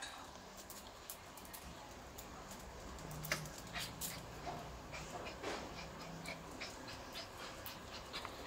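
A male dog pants and whimpers softly, with quick, faint breaths and occasional thin whines against a quiet indoor background, with no clear speech.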